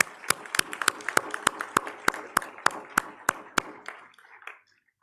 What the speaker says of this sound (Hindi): एक बार जोरदार तालियां बजाकर उनका स्वागत करें